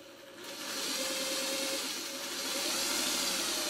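A sewing machine runs steadily at close range, stitching pieced quilt blocks for a shoofly quilt with a flip-and-stitch corner method, a continuous whirring motor hum that starts after a brief pause and holds for a few seconds.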